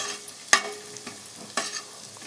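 Tempering spices fry softly in a pan for spinach rice, a low sizzle broken by a few sharp clicks and stirring taps with no voices.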